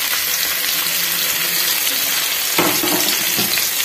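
Chopped garlic and green chillies fry in hot oil for veg Hakka noodles, giving a steady close sizzle with a brief burst of louder crackling and stirring partway through.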